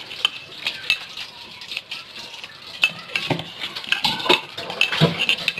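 A chicken seekh mixture is stirred with olive oil in a bowl, producing a close, wet squelching and slapping with irregular scrapes and clinks of a utensil against the bowl.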